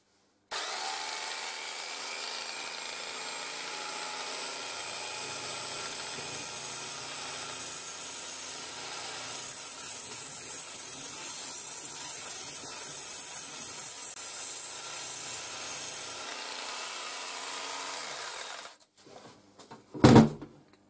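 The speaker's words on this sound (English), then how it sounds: "So as the bristles turn around, so they flick off this bar and they kind of flick just below it here." A Bristle Blaster rotary bristle tool strips paint and underseal from a metal workpiece with a loud, steady whirring scrape for about eighteen seconds, then cuts out, leaving a few brief clatters at the end.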